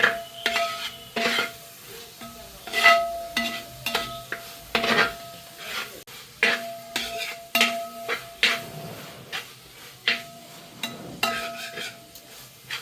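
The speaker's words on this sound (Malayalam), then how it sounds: "ഇനി ഇത് നന്നായി ഒന്ന് ഇളക്കി യോജിപ്പിച്ച് കൊടുക്കാം" A spoon stirs biryani masala mixed with mild curd in a metal pot for fried chicken biryani, repeated close scraping and clinking strokes in an uneven rhythm, with thick wet squelching between them.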